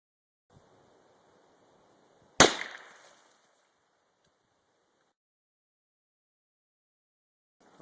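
A .22 Magnum rifle fires a single sharp, loud shot outdoors. The crack decays quickly into a short echo, with near silence before and after it.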